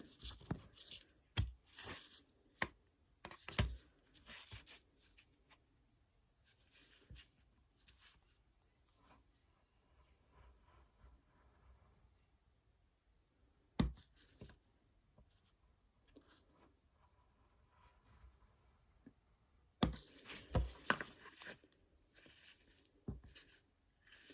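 A knife cuts into a linocut block, giving faint scratchy scrapes and sharp little clicks in irregular bursts with quiet gaps between them, close to the microphone and without speech.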